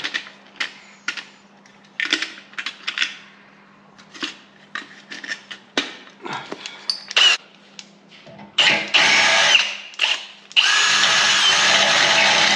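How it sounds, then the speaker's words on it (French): A power drill bores a hole with a larger bit while fitting a bull bar and electric winch, sounding in short bursts at first and then running steadily and loudly toward the end. "Maintenant on prend un forêt plus grand."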